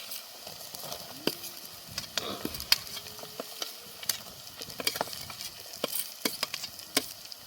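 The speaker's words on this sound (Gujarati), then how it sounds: "તો આપણે નાખી દઈશું કાંદા ઝીણા સંભારેલા." Finely chopped onions fry in a pan on top of ginger-chili paste for paneer handi, with a soft, continuous sizzle broken by scattered clicks and scrapes as a spoon stirs them, close and fairly quiet with no speech.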